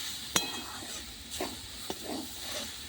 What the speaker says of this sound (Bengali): এভাবে শাকটা লাল করে ভাজতে হবে